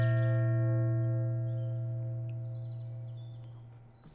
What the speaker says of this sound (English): Hit the gong.